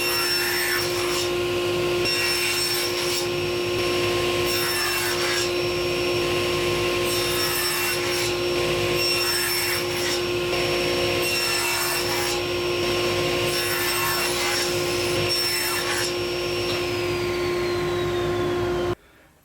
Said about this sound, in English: So I'm going to cut those using my miter fence